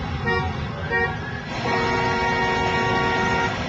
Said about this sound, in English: she honks and shows her handicap placard